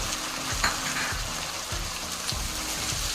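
Tomato and onions frying in a pan, a steady sizzle with periodic low scraping thumps of stirring, close and alone.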